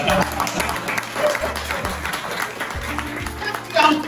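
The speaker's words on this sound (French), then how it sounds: "vous allez célébrer ma voiture ici, applaudissez" Applause from an audience at a French-language presentation, a moderately loud patter of clapping mixed with crowd noise and a low rhythmic music beat running underneath throughout.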